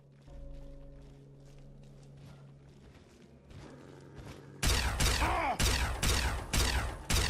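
Plasma weapon fire in Fallout 3 bursts in suddenly and loudly, a rapid run of harsh blasts in quick succession after a quieter stretch of ambient game sound.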